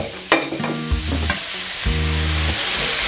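Chopped onion, carrot, capsicum and red and white cabbage hit a hot pan with garlic and ginger for hotel-style chicken noodles, bursting into loud, steady sizzling with clattering tosses and stirring, close and without talk.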